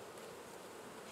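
Honeybees swarming around an open hive, a continuous faint, even buzz with no breaks or voices.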